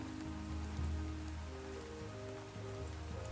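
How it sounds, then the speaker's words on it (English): Steady rain falling as part of a fantasy role-play ambience, a continuous soft hiss of drops over a low sustained background drone. "Yeah, it continues to rain."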